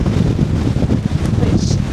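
Strong wind buffeting the microphone on a Lake District hillside near Rannerdale Knotts above Buttermere in winter, a loud, continuous low roar with gusty swells throughout.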